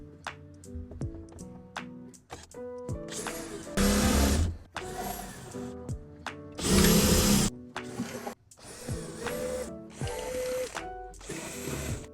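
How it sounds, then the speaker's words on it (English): A DeWalt drill with a Torx bit backs out the bolts holding a Jeep Wrangler JL hardtop, giving two short, loud whirring bursts with pauses between them, over steady background music. "Grab your handy dandy DeWalt drill along with your Torx bit."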